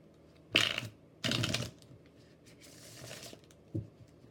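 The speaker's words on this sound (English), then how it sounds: "I can even back shuffle with these" A deck of cards is shuffled in a few quick riffling bursts, close and crisp, separated by short quiet pauses, with a final brief snap.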